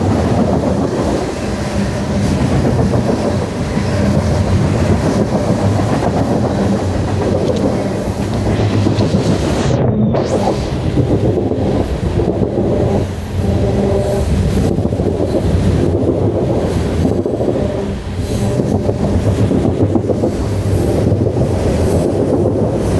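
A train rolls steadily across a railway bridge close by, with continuous loud rumbling and clickety-clack of wheels over the track and some wind buffeting the microphone, and no talking.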